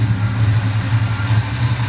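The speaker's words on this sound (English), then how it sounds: "Got a little exhaust leak on this side on that manifold." A dually truck engine idling with an exhaust manifold leak, a steady low rumble with a slight rhythmic puffing pulse, close and fairly loud.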